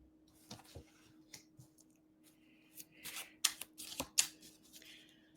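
A tarot deck is shuffled by hand in a quiet room, giving soft riffling flutters and brief card snaps in short bursts that grow busier toward the end, close and faint over a low steady hum.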